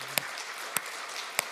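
Three sharp, isolated claps at a church service, spaced evenly apart, faint and sparse rather than a full round of applause.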